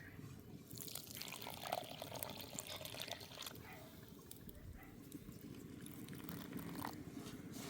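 Water poured into coarsely ground jowar semolina and stirred by hand to make jonna sangati, a continuous close wet swishing and mixing sound with no talk.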